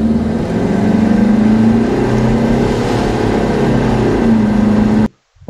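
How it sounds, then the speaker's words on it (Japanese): Car engine pulling hard through a timed acceleration run after an intake manifold cleaning, on a clear day into a light headwind; a steady loud drone with a rising tone holds for about five seconds, then cuts off abruptly. "同じような条件で加速タイムを測りました"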